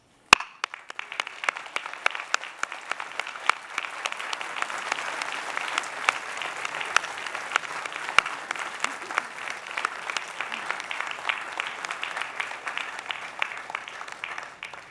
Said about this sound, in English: give them a rousing round of applause as they too have earned it